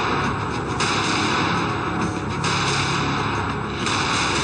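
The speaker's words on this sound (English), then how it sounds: "The chilling sound of loud explosions followed." Loud explosions during the storming of a building, heard as a continuous dense roar of blasts and rumbling with broad, noisy energy throughout, no voices present.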